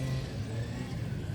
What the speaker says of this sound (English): A car.